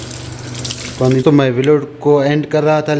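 Water runs from a tap in a kitchen, a steady rushing hiss that is clear for about a second before a voice talks over it, with the flow continuing faintly underneath.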